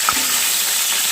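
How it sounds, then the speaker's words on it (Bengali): Pointed gourd (potol) fries in hot oil with a dense, hissing sizzle, close and loud, and a single brief clink near the start over the steady crackle. "এই তেলের মধ্যে পটলগুলোকে একটু ভেজে নিচ্ছি।"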